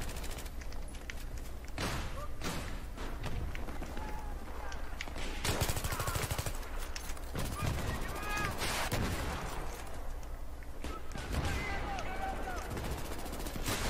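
Bursts of rapid gunfire and scattered shots from the video game Battlefield 3, recurring throughout at moderate level under someone speaking Portuguese.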